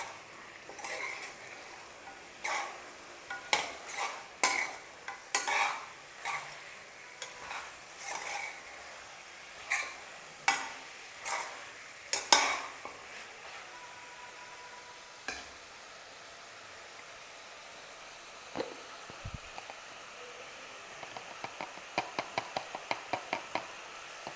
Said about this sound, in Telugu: హై ఫ్లేమ్లో పెట్టుకొని 2-3 సార్లు కదిపించాలి ఇలాగ.